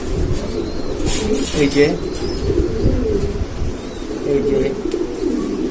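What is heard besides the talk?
pigeons cooing, blue shirting and lahori pigeons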